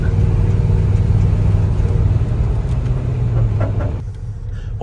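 A Chevy pulls out of a gas station, its engine giving a loud, steady low rumble from close by that eases off slightly near the end.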